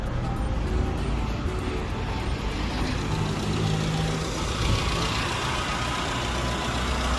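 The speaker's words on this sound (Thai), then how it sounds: "เครื่องยนต์ติดแล้วนะครับ เดินนี่เงียบมากครับ" A 1998 Honda City Type S automatic idles with a smooth, steady low hum, close and even, without revving or a clear starting crank.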